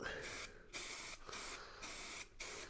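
Four short bursts of spray adhesive hiss from an aerosol can, evenly spaced with brief pauses between them, close and fairly quiet, while fitting a car rear seat.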